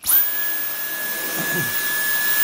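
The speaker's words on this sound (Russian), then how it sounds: "Пылесосить, кстати, хорошо." A Dyson V10 cordless vacuum cleaner starts up and runs with a steady high-pitched motor whine and airflow hiss, close and continuous with no talking.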